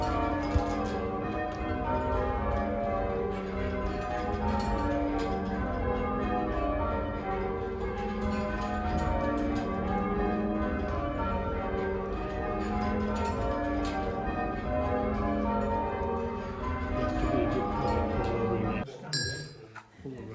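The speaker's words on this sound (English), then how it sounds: "church bells ringing" Church bells rung in practice by a band of bell ringers on a Tuesday night, a dense, continuous peal of overlapping clanging tones that carries on steadily for about nineteen seconds before breaking off near the end.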